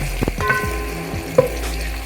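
Onion fries in vegetable oil for a Kenyan-style kienyeji chicken dish, giving a close, steady sizzle with a few soft scrapes and clinks of a utensil against the pan.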